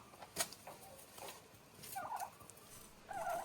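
Neighbours' turkeys gobble in a rural village yard, a few rapid warbling calls in short bursts heard at moderate distance over quiet outdoor background.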